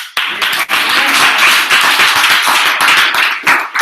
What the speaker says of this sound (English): Let's give a round of applause again one more time